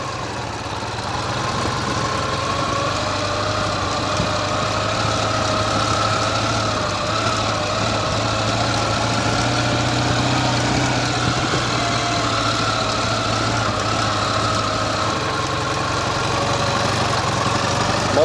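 A Ural motorcycle engine runs steadily while the bike ploughs through deep sand, giving a loud, continuous drone that holds nearly unchanged throughout, with no talk.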